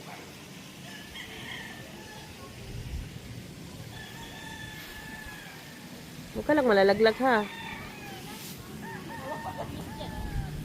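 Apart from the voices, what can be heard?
chickens clucking and rooster crowing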